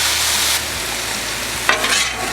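Steak sizzles steadily on a hot Blackstone flat top griddle, a close, continuous hiss that briefly flares louder near the end, with no talking.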